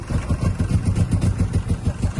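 Chevrolet Chevette engine running in a rough, pulsing rhythm of steady low throbs, close and moderately loud, with no clear talk over it.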